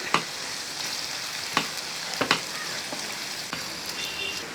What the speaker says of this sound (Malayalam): വെളിച്ചെണ്ണ ചൂടായതിന് ശേഷം നമ്മൾ ഈ അരിഞ്ഞ് വെച്ചിരിക്കുന്ന ഇഞ്ചി അങ്ങോട്ട് ഇട്ട് കൊടുക്കുക